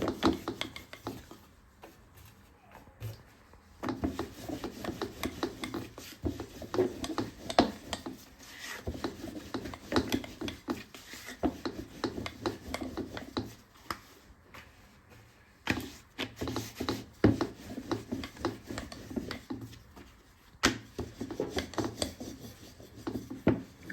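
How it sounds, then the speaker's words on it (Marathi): A rolling pin pushes wheat-flour dough for a paneer frankie wrap back and forth like a chapati. It makes repeated soft rasping rubs in uneven bursts with short pauses, close up and with no talk. "हे आपल्याला कोरड्या गव्हाच्या पिठामध्ये मिक्स करून लाटून घ्यायचं. मी लाटून घेते."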